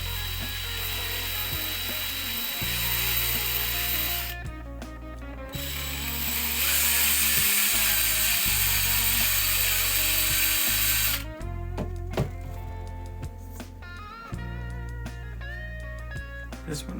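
A small drill bores holes into finished, painted resin miniatures to fit magnets: a whirring, grinding buzz that rises and cuts out in bursts, close up, with a tonal drone running beneath it.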